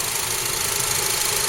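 A Honda CR-V with an i-VTEC engine idles in its open engine bay, giving a steady, close, even hum with no change in pace and no talk over it.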